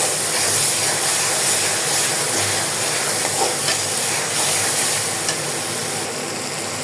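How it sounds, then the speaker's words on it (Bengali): A spice paste with ginger paste fries in a pan for a chicken curry, a loud steady sizzle and hiss with faint stirring scrapes, continuous and close with no voices. "সম্পূর্ণ মশলাটা ভালো করে ভেজে নিলাম।"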